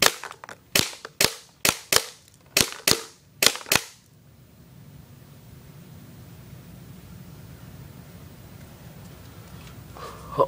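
Aftermath Typhon full-auto gas blowback M9 airsoft pistol firing about nine sharp, close, evenly spaced shots at a range, followed by a low steady background hiss.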